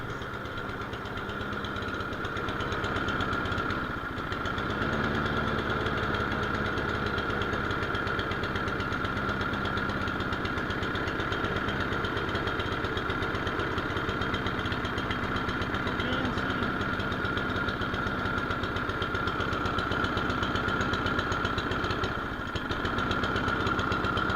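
A lawn mower engine idles steadily at low speed on its thermal choke, a constant rumbling chug that holds at an even, moderate loudness throughout.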